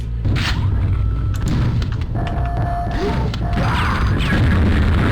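Grenade explosions in a video game, loud repeated booms and crashing debris packed close together over several seconds, with mechanical clatter and effects mixed in.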